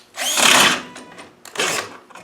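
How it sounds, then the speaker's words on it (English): A power drill whirs loudly in two short bursts, the first longer and the second briefer, driving a tool to set a rivet nut in a welded nut, with no talking. "Drill's got as about much power as a, I don't know what."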